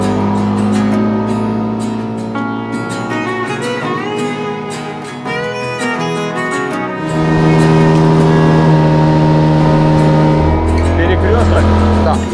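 A motorboat runs out on the main channel of the Danube, its engine a steady, loud drone throughout, with a voice talking over it.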